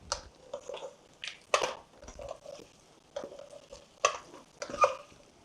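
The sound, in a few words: skin-on chicken frying in its own oil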